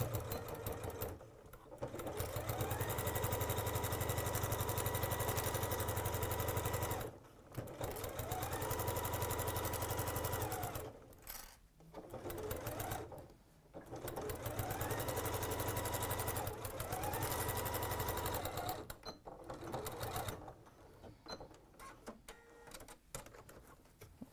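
A sewing machine stitches a seam in a tweed bag, with close rapid mechanical whirring in several bursts separated by short pauses.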